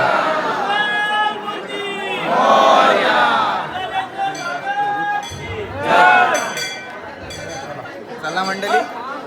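Crowd at a Ganesh palanquin procession, a moderate murmur of many voices with louder shouts rising and falling, and people talking nearby throughout.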